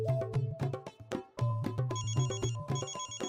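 A mobile phone rings with a loud, repeating electronic ringtone of rhythmic beeping tones in a Marathi TV serial scene, with no talk over it.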